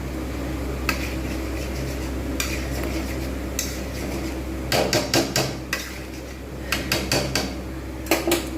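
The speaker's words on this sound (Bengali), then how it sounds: "2-3 মিনিট আমি এটাকে ভালোভাবে নেড়ে ফুটিয়ে নেব।" A spoon stirs mixed vegetable dal in a pot, giving repeated metallic scrapes and clinks against the pot, sparse at first and then in quick clustered bursts, close and fairly loud over a faint simmer.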